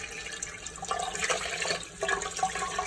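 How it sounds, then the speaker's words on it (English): Running water rinses a dirty wood fiber cleaning pad at a kitchen sink, with a steady splashing, gurgling stream whose bursts rise and fall close by. "So let's see if we can just clean it easily with the water."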